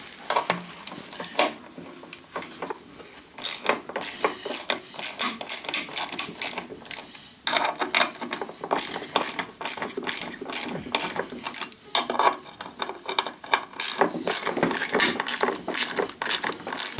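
Dry crackling and ratcheting clicks from paint cracking as a wheel is dismantled on a Bernard BM4, a rapid irregular series of close, sharp snaps and creaks with brief pauses, no talk.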